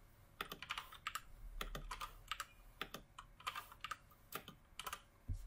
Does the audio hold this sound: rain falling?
no